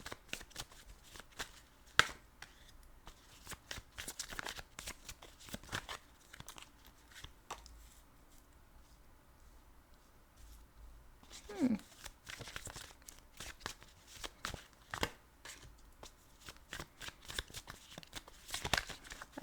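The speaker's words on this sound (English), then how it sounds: "I'm just going to lay out the cards." Tarot cards shuffled and laid out, close crisp riffles and flicks in dense bursts at the start and end with a quieter stretch between, a voice talking softly in places.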